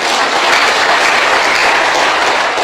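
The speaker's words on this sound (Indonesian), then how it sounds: "Tepuk tangan buat mereka." Steady, dense applause from a church congregation for the musicians seated at the back, loud and continuous throughout with no voices over it.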